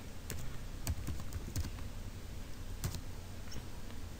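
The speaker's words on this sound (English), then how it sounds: "Now type here in the search extension box" Quiet keystrokes on a Mac computer keyboard typing into a browser search box, a handful of soft clicks in short irregular bursts over a low background hiss.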